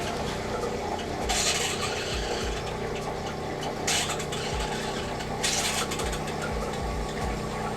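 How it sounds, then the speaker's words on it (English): An RV water pump runs steadily while the plumbing bleeds air, a continuous hum with sputtering, hissing bursts of water and air at intervals, close and alone without talk. "All the good sounds that plumbing makes."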